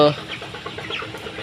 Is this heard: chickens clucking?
yes